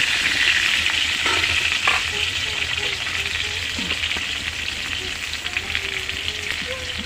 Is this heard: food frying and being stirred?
yes